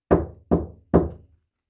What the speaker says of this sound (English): So I'm going to knock on this door.